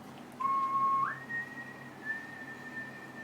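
A person whistles an imitation of New York subway train wheels, a clear held tone that slides up to a higher sustained pitch, then fades with faint repeated touches, alone in a quiet room.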